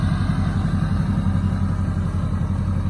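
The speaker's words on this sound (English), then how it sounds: "Listen to that exhaust too." A low, rumbling classic car exhaust burbles steadily and loudly throughout, close by, with a throaty idle pulse and no voices.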